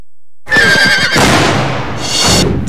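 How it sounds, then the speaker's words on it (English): A loud, close horse whinnies, a shrill wavering neigh that breaks into snorting and blowing before another high cry. "Time to break that horse."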